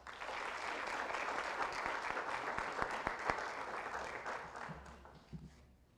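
An audience at a school board meeting breaks into steady applause for the valedictorian, a dense wash of clapping that holds for several seconds before tapering off.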